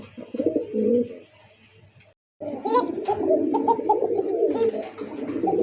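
Pigeons on a breeding farm in Bangladesh coo in soft, rolling throaty calls, a burst, a short silent gap, then more continuous cooing close by, with a voice briefly mixed in.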